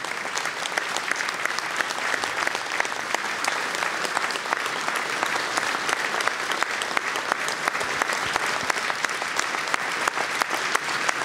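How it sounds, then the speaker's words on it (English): A standing ovation at a benefit event in Prince Edward Island, with dense, steady applause from a large crowd clapping continuously, loud and even throughout with no pauses. "we're going to have a standing ovation here"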